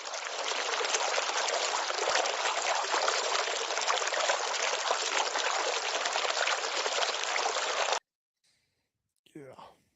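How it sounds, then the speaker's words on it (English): A water fountain runs in a steady, loud, continuous rush of splashing water that stops abruptly near the end, followed by a brief voice. "The fountain is open again."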